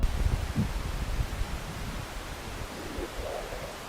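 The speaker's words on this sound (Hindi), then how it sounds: "ये सौर तूफान से निकलने वाले खास तरह की डिस्पर्सिव वेव्स की आवाज है" Recording of dispersive waves from a solar storm: dense hissing noise like rushing wind or static, rumbling and rustling low down, steady and unbroken with no voices.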